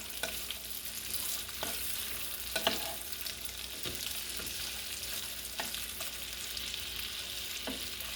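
Potatoes frying in grease in a pan, a steady close sizzle with occasional clicks and scrapes from stirring, no voices.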